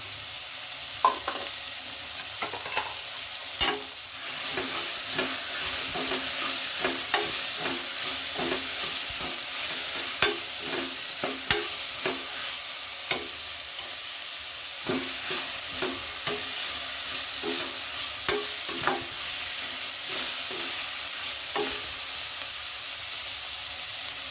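Hyacinth beans (avarekai) tossed into a frying pan and stirred, a steady hot sizzle with repeated scraping and clinking strokes of the spatula throughout, close and fairly loud, no voices.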